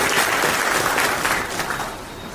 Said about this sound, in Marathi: त्यांच्याही टाळ्या वाजून आपण अभिनंदन केलं पाहिजे